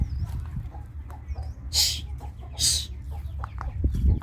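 Chickens at a rural Thai home cluck and chatter nearby in short repeated calls, with two louder squawks standing out amid a low background rumble.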